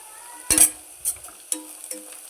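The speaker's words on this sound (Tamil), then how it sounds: "இப்போ பாருங்கள் எந்த அளவுக்கு வெங்காயம் வதங்கியிருக்குன்னு" Onions sautéing in a pan for mutton dum biryani, stirred now and then: a soft background sizzle broken by a few sharp scrapes and clinks of a spoon against the pan, the loudest near the start.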